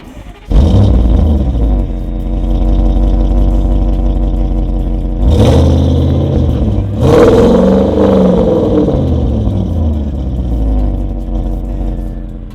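Tuned Audi S8 with a downpipe, decat and stock silencers pulls away, its engine and exhaust revving loudly and continuously, with two sharp surges of acceleration midway as late-opening exhaust valves bark.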